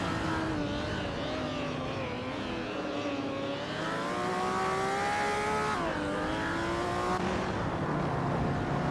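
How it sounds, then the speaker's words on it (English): Vintage street cars race at Hidden Valley Raceway, engines roaring loud and continuous with rising and falling revs as several cars pass close together, no voices. "The vintage street cars are evenly matched at Hidden Valley Raceway."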